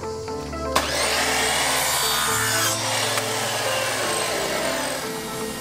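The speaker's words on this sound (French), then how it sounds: "on s'attaque à la découpe des tasseaux pour pouvoir plaquer le mur et fixer le lambris au plafond" Wooden battens being sawn by hand for a camper van ceiling, rough rasping strokes that run continuously at close range, loud and steady, with no talking.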